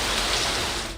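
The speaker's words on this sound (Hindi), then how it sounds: "में मूसलाधार बारिश ने शहर को डुबो दिया।" Torrential rain pours down in Lahore, a loud, dense, continuous hiss of water without breaks, easing slightly at the very end.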